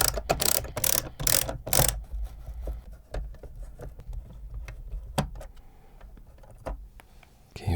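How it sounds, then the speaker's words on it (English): Screws being taken out of an old chess computer: close, dry mechanical clicks and ratcheting scrapes, a dense burst of loud rattling at first, then sparser ticks and small handling knocks. "Okay, we got the screws out,"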